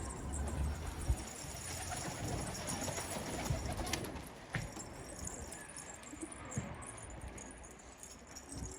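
Pigeons, Turkish flight pigeons of the Garip breed, coo and flutter close by amid a steady rustling background, with faint flapping bursts and no clear talk.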